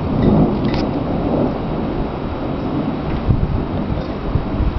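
Rolling thunder from an approaching thunderstorm, a loud continuous low rumble with swelling peaks over about five seconds, with no voices.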